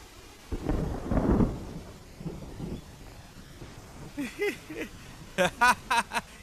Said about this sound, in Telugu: అయ్య బాబా వర్షం వచ్చేలా ఉందండి